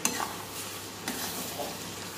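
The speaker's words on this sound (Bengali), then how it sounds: "এবার ভালো করে এটা মিশিয়ে নিয়ে আমি গ্যাসটা অফ করে দেব।" A spoon stirs masoor dal in a pot after coriander leaves and a spoonful of ghee are added, giving a steady soft scraping and gentle sizzle over about two seconds, close and moderately quiet, with no talking.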